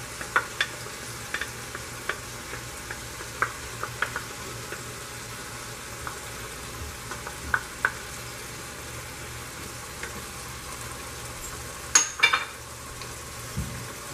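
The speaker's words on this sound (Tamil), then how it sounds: "இதெல்லாத்தையும் நல்லா மிக்ஸ் பண்ணிட்டு எண்ணெய் வெளியில் வர வரைக்கும் இதை அப்படியே விடணும்." Mutton biryani masala mixed with yogurt cooking in a pan, giving a steady low sizzle with sparse light taps of a spoon, and a brief louder clatter near the end.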